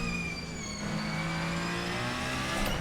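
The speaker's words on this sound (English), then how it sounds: "I love the engine whine when it come off the throttle there, it sounds fantastic" Ferrenzo P49 race car in Assetto Corsa, its engine letting out a sustained high whine as it comes off the throttle, with a steady loud drone and a slight rise near the end.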